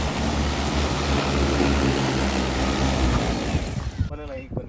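An agricultural spray drone flies close by with a loud, steady buzzing drone of rotors that holds for about four seconds and then cuts away abruptly.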